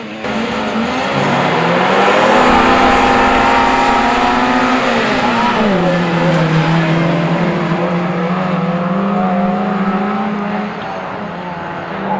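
Autograss racing cars at a St Neots track roar past, loud engines rising and falling with a shifting drone and gravelly tyre noise, with a muffled announcer voice faintly underneath.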